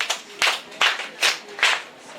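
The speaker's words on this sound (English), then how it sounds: "Let's clap for them." Four separate bursts of hand clapping at a reading marathon session, spaced roughly evenly and fairly close, with faint background noise between the claps.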